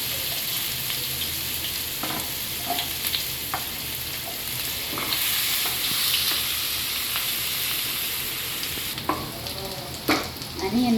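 Chopped onion sizzles and fries in hot oil with tempered mustard seeds and urad dal for a bitter gourd dal curry, a steady dense crackle with occasional clicks of stirring, close and continuous, no talking.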